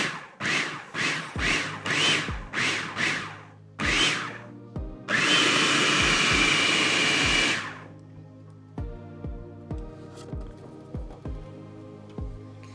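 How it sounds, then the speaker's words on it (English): A food processor pulses butter into flour in a run of short, loud bursts, then grinds steadily for a few seconds before returning to brief pulses. "We're going to pulse it until all the butter combine with the flour."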